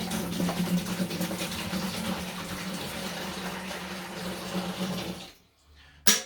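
Hot water poured from a height into a bucket of honey while making cherry mead, a continuous splashing gush with low churning that runs for about five seconds, then cuts off abruptly into near silence before a brief final splash.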